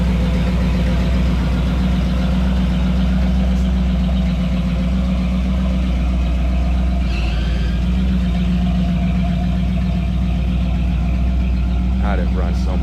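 An engine idles steadily and loudly after a fuel injection adjustment, a deep, even rumble running throughout with a voice speaking over it at times.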